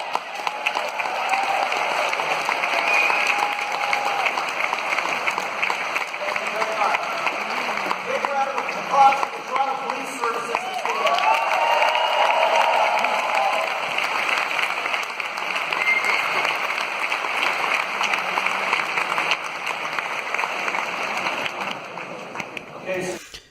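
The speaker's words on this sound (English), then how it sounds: "The crowd trying to sort of drown her out, get her to sit down, clapping." A large debate-hall audience at the 2018 Munk Debate on populism claps continuously and loudly to drown out a heckler, a sustained dense wall of applause that persists throughout with crowd murmur underneath.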